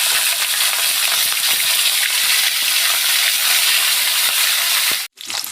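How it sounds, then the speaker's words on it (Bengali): Hilsa fish fry in hot oil in a wok, a loud, dense sizzle with crackling spatter that runs continuously, then cuts out briefly before resuming. "তেলটা গরম হয়ে গেছে, এবার মাছগুলোকে এক এক করে ভেজে নেব"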